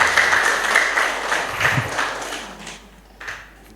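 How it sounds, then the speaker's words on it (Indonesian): A Buddhist temple congregation bursts into applause during a Dhamma talk, a dense wash of many hands clapping that stays steady and then tapers off over a few seconds. "Tepuk tangan dong."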